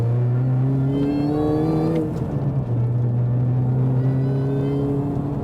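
A car engine drones loudly and steadily as it accelerates, a rich sustained roar from inside or near the car, with a brief dip midway.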